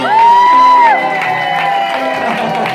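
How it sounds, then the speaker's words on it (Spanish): Guests at a Colombian 24th birthday party clap and cheer for the host, a loud mix of whoops, shouts and scattered applause from a lively group nearby. "aplauso para nuestro Cucu."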